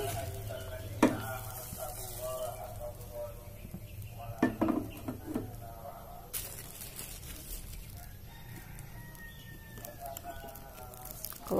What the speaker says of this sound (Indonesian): kita panasin wajan. Kalau udah cukup, kita taruh telur